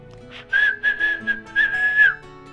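A person whistles a bright, warbling birdlike tune in several short phrases followed by a longer held note, imitating the song of an eagle.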